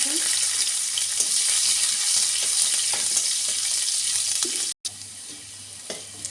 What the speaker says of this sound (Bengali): এবার রসুনটা একটু ভেজে নিয়ে দেবো কুচুনো পেঁয়াজ